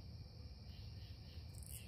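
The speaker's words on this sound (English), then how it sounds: "we're going to hear them crickets all night" Crickets chirp steadily at night around a hammock camp in the woods, a faint continuous high trill over low background rumble with no break.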